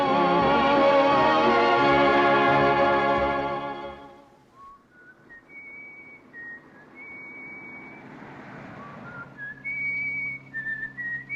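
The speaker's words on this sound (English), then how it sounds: "whistle something else" A person whistles a wavering, high melody in a 1940s film scene, the thin notes coming softly and intermittently after a louder, richer tonal passage.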